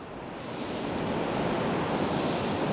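Ocean waves wash onto a sandy beach in a steady, loud roar of surf that swells slightly over a few seconds, with wind noise mixed in and no voices.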